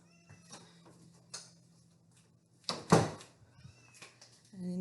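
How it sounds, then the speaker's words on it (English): Several house cats meow while waiting for their food, with a few close, distinct cries rising over a person talking softly nearby and light clatter in the room. "you'll see the other cats are waiting for theirs"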